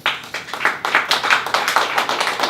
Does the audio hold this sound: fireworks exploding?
no